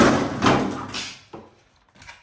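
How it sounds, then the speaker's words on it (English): Door of a WPL B36-3 RC transporter truck opened by hand, a close plastic clack followed by two smaller clicks and light handling noises. "Has opening doors, just like all the other WPLs."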